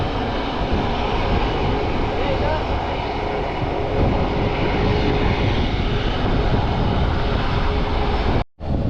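A large passenger jet descending to land at Chhatrapati Shivaji Maharaj International Airport in Mumbai, a loud, steady, broad engine roar that fills the whole stretch and cuts out sharply near the end, with a voice faintly beneath.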